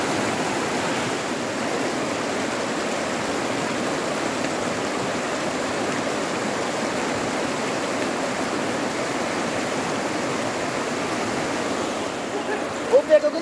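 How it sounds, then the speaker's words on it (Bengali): A cold hill stream at Utmachhara in Bholaganj, Bangladesh, tumbles down from the hills over rocks, making a constant, dense rushing wash that stays even and unbroken throughout. "পাহাড় থেকে নেমে আসা পানি আর এরকম পাথর বেয়ে বেয়ে নামছে"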